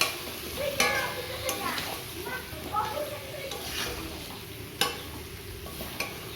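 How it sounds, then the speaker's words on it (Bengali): Meat being stir-fried into kosha in a pan with onion and potato, a soft ongoing sizzle broken by a few sharp scrapes and clinks of a spatula against the pan, close by. "তো আমি মাংসটা রান্না করছি"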